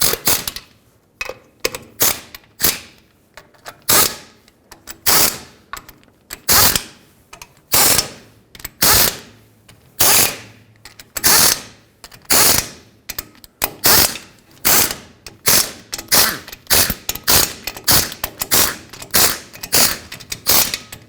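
Ratchet tightening the differential cover bolts on a 2009-2011 Ford F-150, giving repeated quick clicking bursts in a steady rhythm with short pauses between bolts, close and loud, no talk.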